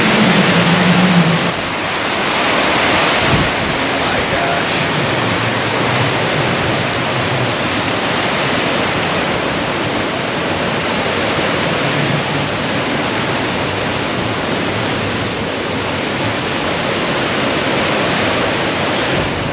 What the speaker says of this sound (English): Crazy, the wind shifted direction.